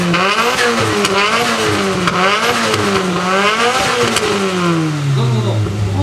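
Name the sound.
modified car exhaust revving at meeting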